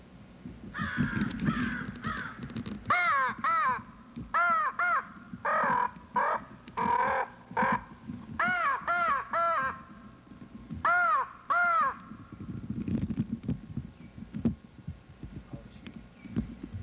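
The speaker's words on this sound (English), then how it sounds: "You got crows flying all over you." Crows caw repeatedly in quick bursts of harsh, close calls while flying overhead, with rustling and low handling noise between the calls.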